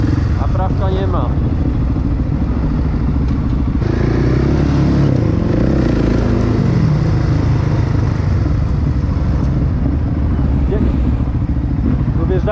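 A motorcycle, a KTM EXC450 or Duke 690, runs steadily and close by, rising and falling as it revs, with a rough, rattling drone throughout.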